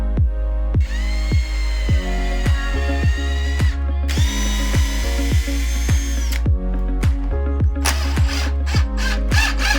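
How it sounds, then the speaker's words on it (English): A drill bores pilot holes in wood for screws on a coffee table build, with short whirring bursts over a steady rhythmic background, close and fairly loud. "So I'm going to drill these out real quick,"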